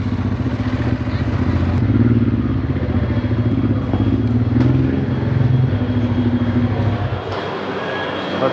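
A motorcycle rides through city traffic in Santiago, Chile, its engine a loud, steady low drone with shifting pitch and road rumble throughout, easing slightly toward the end.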